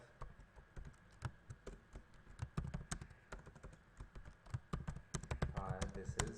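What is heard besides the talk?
typing code on a computer keyboard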